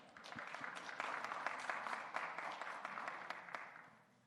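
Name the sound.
crowd applause at boxing weigh-in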